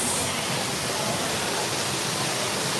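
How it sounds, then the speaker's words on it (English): A steady, loud roar of a waterfall fills the scene continuously, with no pauses, heard from a boat tour. "Waterfalls."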